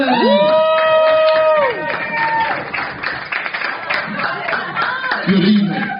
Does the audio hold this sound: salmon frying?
no